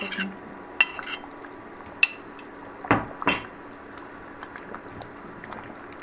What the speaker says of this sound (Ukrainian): Дуже зручно мішати аджику такою ложкою.